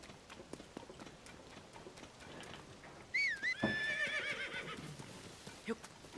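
A horse in Zelda: Tears of the Kingdom gives a loud whinny partway through, after quiet hoof clops and faint background noise.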